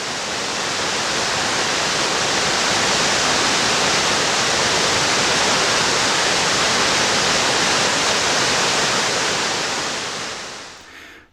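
Minnehaha Falls pours over limestone and sandstone bedrock, a dense, steady roar of falling water heard close up, broadband and unbroken for the whole stretch before easing away at the end.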